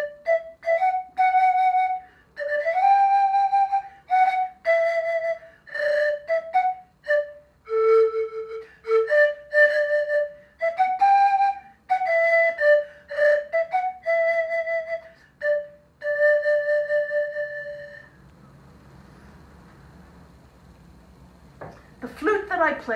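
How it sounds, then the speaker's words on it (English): Pan flute of the kind used in the Broadway show The Lion King, playing a lively run of breathy, whistle-like notes for about eighteen seconds, then a soft hiss and a brief burst of sound at the end. "I play actually one of these pan flutes in the Broadway show The Lion King."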